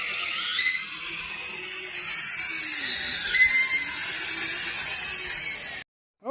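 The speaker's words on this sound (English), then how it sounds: "There's Ed putting the holes in for the bolts for the gate." Ed drills holes for the bolts on a gate panel set on a bridge, a steady high-pitched whining drill running continuously for about six seconds before cutting off abruptly.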